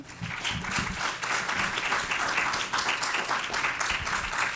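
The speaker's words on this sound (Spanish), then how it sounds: "le volvemos a dar un aplauso a la doctora" Steady audience applause for a doctor after a Spanish-language lecture on biotechnological and biomedical materials, a continuous dense clatter of many hands filling the room with no voices over it.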